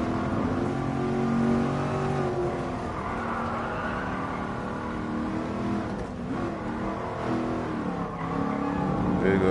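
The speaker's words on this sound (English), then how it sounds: "And then back on the throttle up the hill." A heavy Dodge muscle car's engine revs hard and steadily while climbing a hill on the Nürburgring, loud and close, with throttle swells and slight dips as it pulls uphill.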